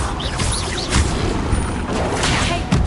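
Bombarda blasting spell in Hogwarts Legacy, a video game: a dense, loud crashing roar of debris and rumble that lasts the whole moment, with no voice over it.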